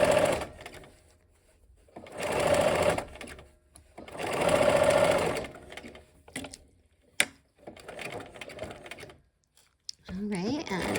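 A sewing machine stitches fabric in several short bursts of rapid mechanical whirring and ticking, separated by pauses, with a person talking between runs.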